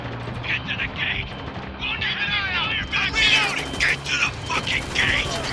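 Gunfire in the video game Spec Ops: The Line, sharp repeated shots and cracks crowding the scene at close range, mixed with shouted voices and game chatter throughout.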